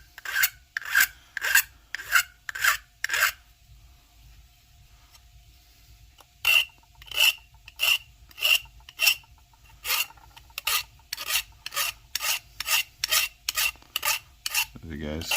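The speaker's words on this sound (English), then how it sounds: "We're just filing this tip. Just kind of working it." A metal file rasps against a silver piece in close, crisp strokes: a run of about six, a short pause, then a longer, quicker series of even back-and-forth scrapes.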